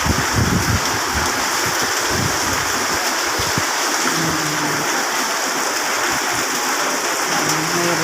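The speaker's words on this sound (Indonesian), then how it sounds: "Hujannya deras sekali." Heavy rain pours at night in Sigli during a storm with strong wind, a dense, loud, continuous hiss of water on surfaces, with occasional low rumbles and no speech.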